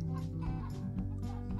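Cartoon chickens cluck repeatedly in the mobile farming game Egg Inc, a busy layered flock of short, bright clucks and calls over a steady background hum, with no talking.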